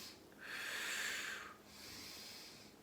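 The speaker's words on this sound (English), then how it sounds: "Really digging into that breath, breathing it in deeper, pushing it out" Deep breathing during a yoga session comes through as a long, airy inhale followed by a softer, sustained exhale, close and quiet with no talking.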